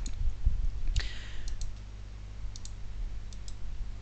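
A computer mouse clicks faintly while browsing folders in Windows Explorer, a few light, sparse taps spaced over several seconds against a low steady hum.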